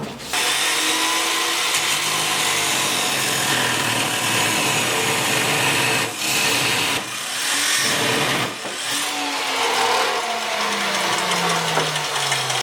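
A power tool whines continuously and loudly up close while cutting Porsche front strut suspension parts, its pitch sliding and dipping as the load changes, with brief drops near the middle and no talk.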